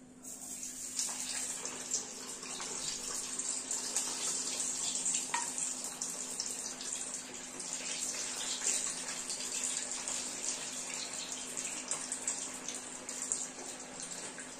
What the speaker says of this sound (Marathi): इथे आपलं तेल तापलेलं आहे आता, आणि त्यामध्ये मी आता हे वडे सोडते